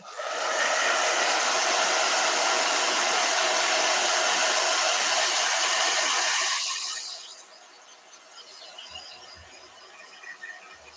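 A hair dryer roars at a steady, close, full blast for roughly seven seconds before cutting off, leaving near silence broken by a few faint knocks.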